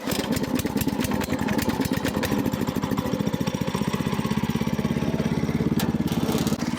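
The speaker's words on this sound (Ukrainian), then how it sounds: "вирушаю з другої передачі, так як трактор тяговитий, хоч і невеликий." A small mini tractor engine chugs steadily as it pulls away in second gear, a close, loud, fast rhythmic thumping with a mechanical rattle throughout.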